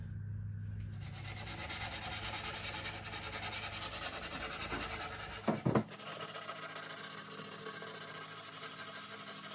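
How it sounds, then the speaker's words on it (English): A wooden cajon drum shell is hand sanded in a steady, close scratchy rub for about six seconds, then a couple of brief knocks, followed by faint hiss. "I'm going to sand this real quick just to clean it up a little bit"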